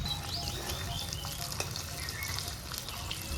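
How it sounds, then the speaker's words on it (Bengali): Steady, close sizzling of fish frying in hot oil, a continuous crackling hiss with small pops and spatters, no voices. "এখন ওই তেলে মাছ ভেজে নিচ্ছি"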